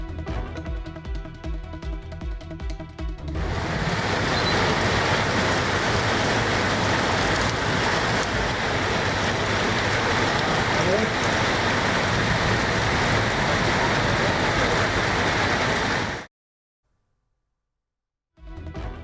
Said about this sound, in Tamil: மற்றும் அதன் சுற்றுவட்டார பகுதிகளில் கனமழை பெய்தது.